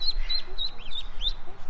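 A small flock of ducklings and young goslings peep and cheep in quick, high repeated calls, close and lively, with a few softer low notes mixed in.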